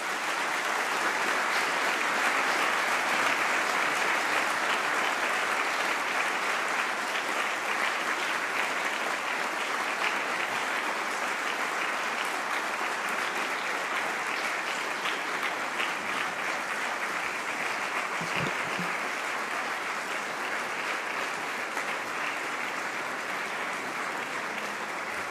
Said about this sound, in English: A lot of applause for His Excellency.